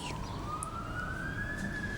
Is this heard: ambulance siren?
yes